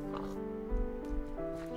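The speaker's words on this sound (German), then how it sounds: "Schweinchen ist wieder unter den Lebenden" A pig oinks in the Minecraft video game, giving a few short grunting snorts over a steady background, with a person talking at the same time.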